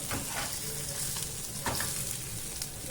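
Fish shallow-fries in a pan being turned over, giving a quiet, steady sizzle with soft crackles and occasional bursts as pieces shift.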